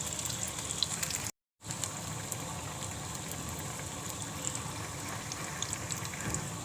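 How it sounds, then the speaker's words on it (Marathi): Fenugreek (methi) fritters frying in oil over a medium gas flame, a soft, steady low sizzle that drops out for a moment before resuming, with no voices. "मीडियम गॅसवर सगळे फ्राय करून घेते."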